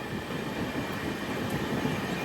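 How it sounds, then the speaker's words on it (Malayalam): Panchaganga Express starts out of Kunigal railway station in the early morning, a steady rumbling roar with a constant hum, close and even throughout, with no voices. "ഇപ്പോൾ കുണിഗൽ റെയിൽവേ സ്റ്റേഷനിലെത്തി. അപ്പോൾ ഇതാ ഇവിടുന്ന് ട്രെയിൻ എടുക്കുകയാണ്."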